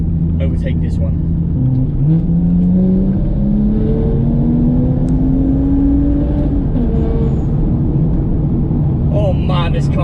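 A 420 hp stage 2 tuned BMW accelerates hard to overtake a slow articulated lorry, its engine note climbing steadily in pitch from inside the cabin, with a person talking over the sustained drone.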